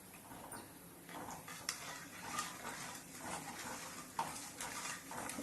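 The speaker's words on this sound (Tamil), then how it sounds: "இப்போ நல்லா ஒரு கலக்கிடுவோம் நல்லா. அப்போ அந்த கல்லுப்பெல்லாம் நல்லா கரைஞ்சிடும் அந்த குழம்புல." Chicken curry with rock salt being stirred in a pot, giving soft continuous scraping and clinking with a few sharper knocks of the spoon against the pot, fairly quiet and close, with no voice.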